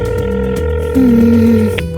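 A phone ringback tone heard while placing a call, a steady tonal hum with a brighter sustained tone rising in the middle, clear and fairly loud without any voices.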